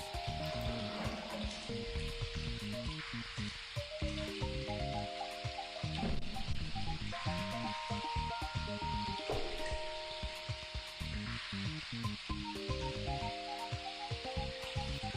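Steady hiss of rain spattering against windows in the video game Seabed, continuous and fairly loud, with layered tonal music playing over it throughout.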